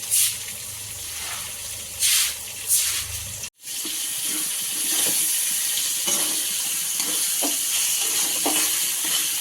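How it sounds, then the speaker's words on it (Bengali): Stone-ground spice paste for a jackfruit and prawn curry sizzles loudly in a pan, a dense steady frying hiss that follows a few scrapes and a brief break, with occasional spoon scrapes and pops over it. "মশলাগুলো দিয়ে দেওয়া হয়েছে এবারে হলো কষানো হবে"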